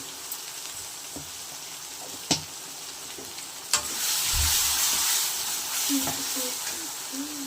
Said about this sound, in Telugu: అల్లం వెల్లుల్లి పేస్ట్ కూడా బాగా వేగిపోయింది